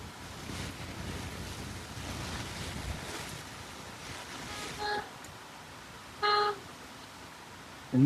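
Gusty wind and driving rain beat around an onion-laden lorry on a Madurai run, a continuous rushing wash with a few brief sharp tonal bursts near the end, no talk.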